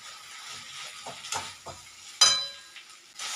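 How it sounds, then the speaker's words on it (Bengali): Boiled chowmein being stirred with sauce in a pan, giving soft scraping and sizzling strokes, a few utensil knocks and one sharper clink, close and moderately quiet with no talk. "চাউটাকে এবারে খুব ভালোভাবে নাড়াচাড়া করে সব কিছুর সঙ্গে মিশিয়ে নেব"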